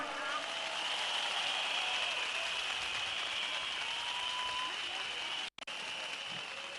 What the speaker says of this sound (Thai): ขอเสียงปรบมือให้พวกเรากันหน่อยครับ